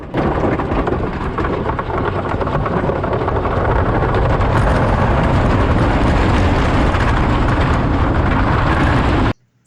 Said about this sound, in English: The mighty Canadian Mindbuster. I think this is the first roller coaster in Wonderland. It's made out of wood.